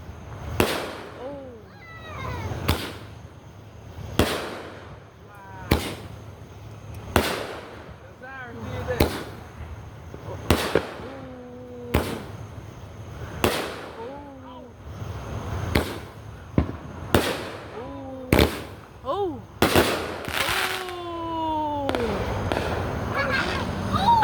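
A long run of backyard fireworks and firecrackers bursts in sharp, close bangs, many followed by rising whistles, with the pace quickening into a dense cluster near the end while people shout and talk throughout.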